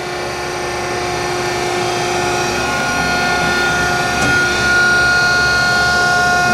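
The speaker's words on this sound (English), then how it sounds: "it's a very high-speed internal attachment, so it sounds like it too." A high-speed internal grinding attachment runs on a Landis 1R 10 x 20 inch universal cylindrical grinder, giving a steady, close, high-pitched whine over a constant mechanical hum with no break.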